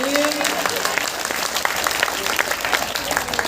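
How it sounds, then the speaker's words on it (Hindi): A crowd at a devotional satsang gathering in Bihar claps and applauds for a child, a dense, sustained patter of many hands with scattered sharper claps, while a voice speaks over it. "ताली बजाइए इस बच्चे के लिए।"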